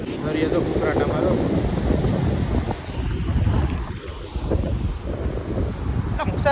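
Sea roaring along the Mocha Ghed coast, a loud, steady broadband rush of surf and wind that fills the whole stretch, with a person talking over it.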